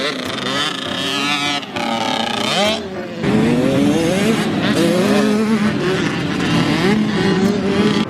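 Several motocross dirt bikes run laps at a riding camp, their engines loud and close, revving up and down in overlapping rising and falling whines with brief dips between passes.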